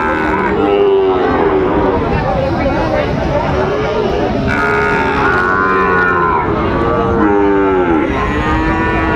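Sahiwal breed calves and bulls lowing at a crowded cattle market in Chattogram, several loud, drawn-out moos overlapping one another against a steady din of people talking nearby.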